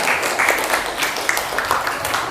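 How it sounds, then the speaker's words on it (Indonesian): Students in a coding and artificial intelligence training class applaud a group, producing a brief, steady patter of clapping hands at moderate loudness with some background chatter mixed in. "tepuk tangan buat kelompok 3"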